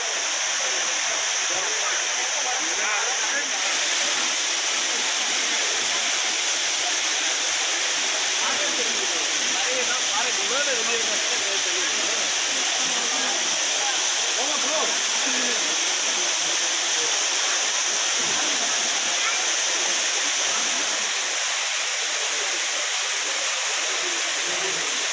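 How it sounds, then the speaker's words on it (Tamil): Water pouring steadily from the falls at Tenkasi, a dense continuous rushing and splashing roar that stays close and even throughout with no pauses. "அருவியில தண்ணி சீரா கொட்ட குளிக்க ஆஹா என்ன ஒரு மகிழ்ச்சி போங்க"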